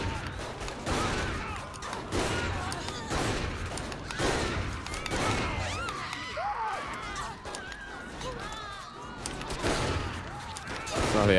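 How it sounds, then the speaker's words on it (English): Triple barrel shotgun blasts in Saints Row: The Third, rapid loud booming shots in an irregular burst amid chaotic game action and clattering effects, with a voice talking over it. "Triple barrel shotgun, son."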